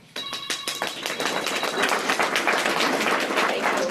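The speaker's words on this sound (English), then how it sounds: "Electronic applause" Electronic applause sound effect played through a room's speakers at a parents' gathering, a steady wash of clapping with a brief tonal ring at the start, moderately loud and continuous.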